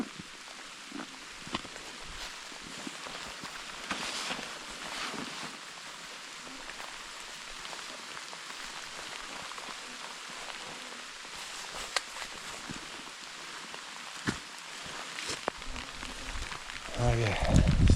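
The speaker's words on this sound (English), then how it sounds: "Okay, it's starting to rain pretty good" Rain falls outdoors during a moose scouting trip in mosquito country, a faint steady patter of drops on leaves and surfaces with occasional louder close taps and rustles, building toward the end.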